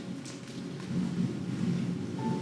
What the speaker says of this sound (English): stumble back out into just this drenching heavy rain, lightning and thunder cracking behind you